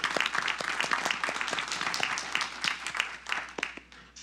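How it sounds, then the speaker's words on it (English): Attendees at a city council meeting give a round of applause, a moderate crowd of distinct hand claps that is steady and then tapers off near the end. "let's give a round of applause to the team that put together"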